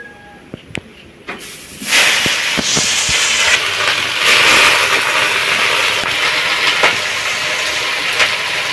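Jute greens hit a hot wok with a sudden loud hiss that settles into steady, continuous sizzling, preceded by a few sharp clinks of utensils.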